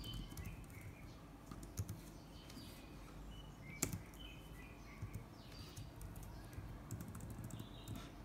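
Soft, faint keystrokes tap on a Logitech K380 Bluetooth keyboard in an uneven run, with birds chirping quietly in the background.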